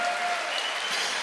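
A church congregation applauding during a sermon, a steady dense wash of clapping across a short stretch at moderate level.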